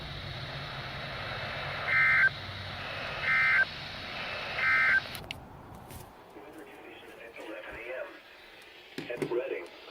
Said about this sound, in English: this has been a test of NOAA radio's warning device